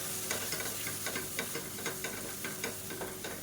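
Chilli powder, turmeric and garam masala sauté in a pan, giving a close, steady sizzle broken by quick, repeated scraping stir strokes, with no voices.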